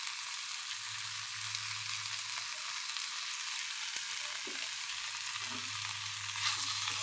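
Cluster beans (goruchikkudu) frying in a pan give a steady, close hissing sizzle with faint stirring scrapes, continuous throughout with no talk.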